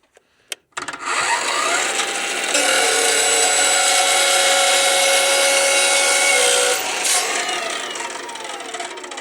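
A 14-inch Vevor 3500W abrasive chop saw cuts through metal stock, its loud motor whine climbing into a sustained, harsh grinding screech for several seconds before spinning down, close and alone.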